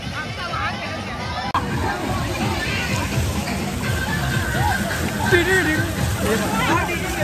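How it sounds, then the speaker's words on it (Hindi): Water sloshing and splashing from fountain spray at a water park in Varanasi, with a steady wash of water under crowd babble and scattered voices throughout. "इतना बड़ा पूल है फिर भी फुहारा में नहा रहे"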